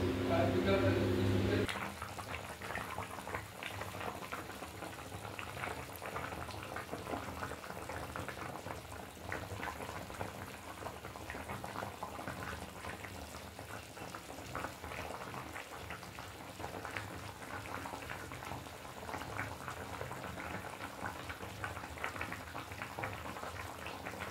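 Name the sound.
curry boiling in a pot after adding water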